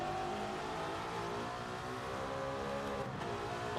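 A 70-year-old car's engine driven in Gran Turismo 7 on sports tyres, a faint, steady engine drone with shifting pitch under light acceleration, with no talk over it.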